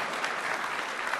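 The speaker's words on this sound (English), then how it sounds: "You can applaud." Audience applause at a Microsoft Build 2014 tech keynote for the Windows Phone 8.1 launch, a steady, dense clapping from a large crowd lasting about a second with no voices over it.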